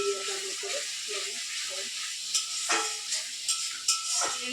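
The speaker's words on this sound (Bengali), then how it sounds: "সাদা জিরে শুকনো লঙ্কা আর তেজপাতা দিয়ে দেওয়া হলো" Cumin seeds, dried chilies and bay leaf sizzling in hot oil in a kadai on a stove, a steady loud hiss throughout with a few sharper crackles, under a quiet voice.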